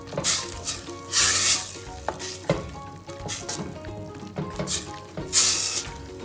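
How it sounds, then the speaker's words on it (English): Onion and tomato with seasoning and coriander being stirred in a pan, a loud continuous sizzle and fry with repeated scraping, stirring strokes rising and falling throughout, no voices. "Let's mix properly the seasoning with onion and tomato, as well as the bouquet garni, which is coriander"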